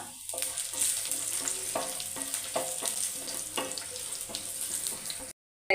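Dried red chilies fry in oil with a continuous crackling sizzle and occasional pops, then the sound cuts off abruptly.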